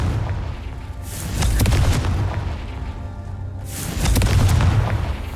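Two heavy booming blasts from the Confringo fire spell in Hogwarts Legacy roll out a couple of seconds apart, each a deep, loud explosion with a crackling tail, over steady low game rumble.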